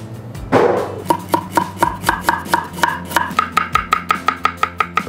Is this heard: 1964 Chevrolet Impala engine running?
no